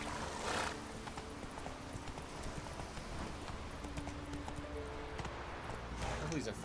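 Geralt's horse Roach gallops in The Witcher 3, a rapid rhythmic drumming of hooves over steady ambient noise, moderately loud and continuous with no talk.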